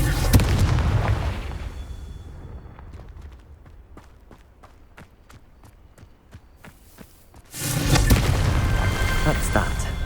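Confringo blasting spell from Hogwarts Legacy, a loud explosive burst at the start, then a run of sharp rhythmic impacts, and another heavy roaring blast near the end.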